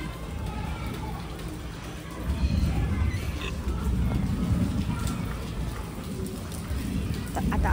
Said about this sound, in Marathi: आता मस्त असा थंडगार पाऊस पडून गेला आहे आणि विजा मस्त अशा कडकडतायत